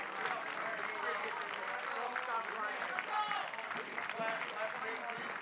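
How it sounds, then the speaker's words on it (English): A crowd of baseball fans on their feet applauding a player, sustained clapping and crowd noise throughout, fairly faint and distant, mixed with voices. "Bay County fans on their feet applauding the efforts of Brooks Norris"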